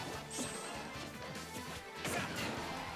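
A heavy up smash attack lands in Super Smash Bros. Ultimate, a crashing hit among steady game noise and crowd murmur, with a brighter impact burst near the two-second point.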